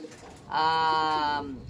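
A single drawn-out pigeon coo, close and clear, rising out of a soft background murmur.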